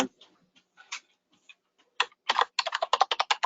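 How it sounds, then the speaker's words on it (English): Loud, rapid keystrokes on a computer keyboard during an online forest commission meeting, sparse taps at first, then a dense burst of clacking, close and alone. "Who's ever typing really loud?"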